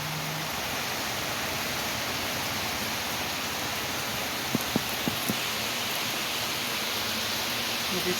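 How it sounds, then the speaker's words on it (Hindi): Sudden steady rain falls as an even, continuous hiss, moderately loud and unbroken throughout, with a few faint knocks partway through and no one speaking. "अब तक धूप था, एकदम से बारिश होना स्टार्ट हो गया है।"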